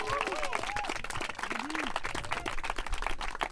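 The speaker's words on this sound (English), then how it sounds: "So can everyone give a big round of applause for Libby?" Audience applause at a live beach volleyball mailbag event, steady dense clapping throughout with a few voices calling out over it.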